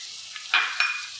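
Cashews dropped into a hot pan while making mutton korma, two quick bursts of sizzling a moment apart, close and brief.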